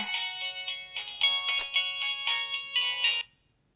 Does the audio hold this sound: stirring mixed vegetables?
no